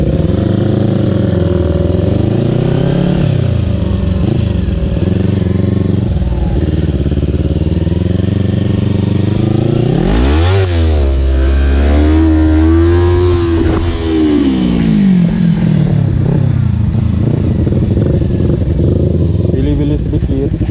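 Motorcycles, a Yamaha R25, Suzuki GSX and Kawasaki Ninja, race on a wet circuit with loud continuous engine drone, revs rising and falling as bikes pass close, and a voice talking over it.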